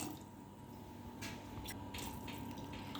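Quiet water pours and splashes in a few brief bursts into a cooking pot for chole, over a faint steady background hum.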